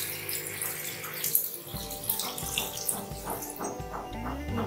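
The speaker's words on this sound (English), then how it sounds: "Okay, so I'm actually washing. That's why it's making noise." Tap water runs into a sink while a face is washed, a continuous splashing stream with intermittent gurgles and hand splashes, fairly close and moderately quiet.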